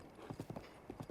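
Horse hooves clip-clopping in the video game Breath of the Wild, a quick, even series of soft, near hoofbeats over a low background.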